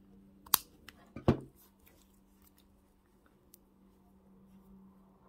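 Scissors snip through a length of cord in a couple of quick, close cuts, a sharp crisp snap followed by a second louder one, then quiet handling noise.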